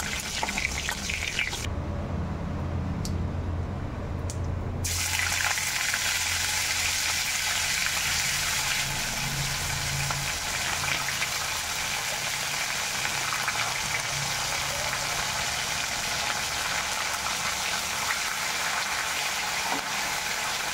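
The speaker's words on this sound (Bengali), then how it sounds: "ভাজা জিরে ছেড়ে দিলাম।" Cumin seeds, a bay leaf and dried red chillies fry in hot oil, giving a steady, fairly soft sizzling hiss that runs unbroken throughout with no talking.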